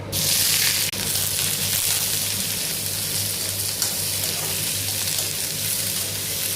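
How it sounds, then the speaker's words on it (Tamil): Onions sauté in hot oil in a kadai after mustard seeds have popped, making a steady, close sizzling hiss that holds evenly for several seconds with no talk over it. "வெங்காயத்தை நல்லா வதக்குங்க"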